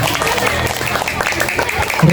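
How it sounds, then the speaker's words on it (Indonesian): A crowd at a Maulid Nabi gathering gives a short burst of clapping, mixed with voices and background murmur. "tepuk tangan ibu, tepuk tangan"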